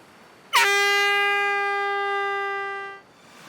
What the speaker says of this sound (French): Clémentine, un coup de corne de brume pour que les 3 autres sachent que quelqu'un a trouvé le premier poignard.